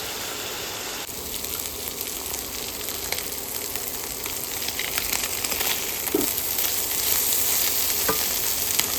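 Chopra fish, also known as jhurjhure fish, frying in a pan with a steady, dense sizzle that stays close and loud throughout, broken by a few sharp pops of spattering oil.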